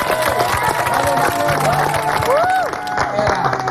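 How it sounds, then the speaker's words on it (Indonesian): Studio audience clapping and cheering on an Indonesian TV variety show, a dense, steady crowd sound mixed with music and voices throughout. "Kasih tepuk tangan dong."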